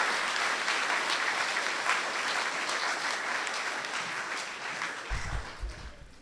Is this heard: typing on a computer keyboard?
no